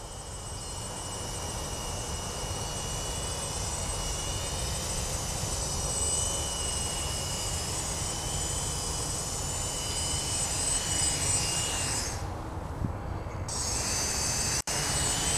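An X525 quadcopter's motors whine steadily and loudly through its takeoff and slow forward flight, holding a constant high buzz that dips for a moment near the end.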